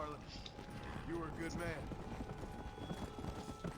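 A horse's hooves clip-clop in a steady trotting rhythm in Red Dead Redemption: Undead Nightmare, with a brief neigh and someone talking over the hoofbeats.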